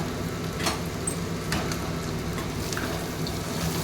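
Bitter gourd frying in a pan: a constant close sizzling hiss with a few faint stirring scrapes and taps over about four seconds, with no voices.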